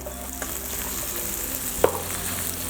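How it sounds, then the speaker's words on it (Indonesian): Onion sautéing in a pan for nasi mawut, with a steady close sizzle of frying under light stirring, one sharp scrape or clink near the end, and no talking. "untuk menumis bawang bombay jangan terlalu matang"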